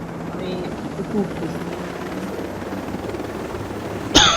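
Helicopter rotor drone from the video game Tom Clancy's Ghost Recon Breakpoint, steady and moderately loud, with a voice speaking over it and a sharp burst near the end.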